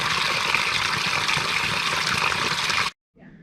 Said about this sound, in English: An old wooden pipe and water running out of it.